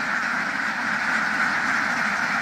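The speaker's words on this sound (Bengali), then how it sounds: "এখানে কত হাঁস আছে?" Flock of around 1200 ducks at a duck farm in Dashmina, Patuakhali, producing a dense, continuous wall of overlapping quacks and chatter that stays loud and steady throughout.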